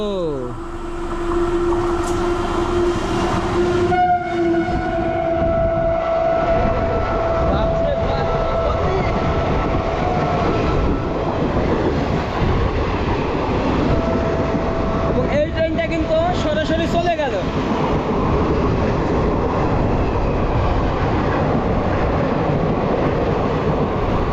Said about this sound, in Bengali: ট্রেন কিন্তু এখন আসতেছে